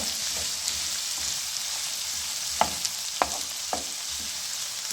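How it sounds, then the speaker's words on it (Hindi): Cabbage fries in a pan for chicken and vegetable macaroni, making a steady crackling sizzle. Three or four distinct stirring clacks come in the second half, and no voices are heard. "थोड़ा सा हम गोभी को जो है वो थोड़ा सा फ्राई कर देंगे साथ में"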